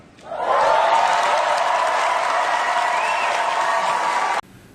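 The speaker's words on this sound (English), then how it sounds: "Note the great applause from the audience after Bardem's remark." Audience applause at an awards ceremony after Javier Bardem's remark, a sustained wash of many clapping hands rising quickly at the start, holding steady and loud, then cutting off abruptly.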